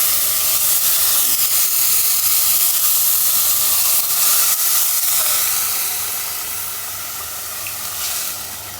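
Water poured carefully onto hot fried rice and meat for pulao sets off a loud, steady hiss of steam close by, which eases and fades slightly toward the end.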